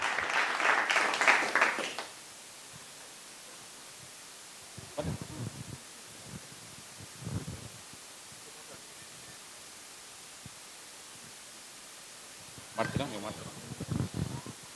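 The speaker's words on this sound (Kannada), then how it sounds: "ಬರಲಿ ಎಲ್ಲ ಒಂದು ಜೋರಾದ ಚಪ್ಪಾಳೆ ವಾಲ್ ಆಫ್ ಫೇಮ್ ಪಾರ್ಟಿಸಿಪೆಂಟ್ಸ್ಗೆ." A short burst of applause for Wall of Fame nominees at an SJKS Sankranti event, dense for the first two seconds, then quiet with only scattered faint shuffles and low sounds.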